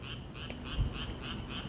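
Frogs croaking in a steady, rhythmic series of repeated calls outdoors near a station at night, fairly close and clear with a soft thump partway through and no talking.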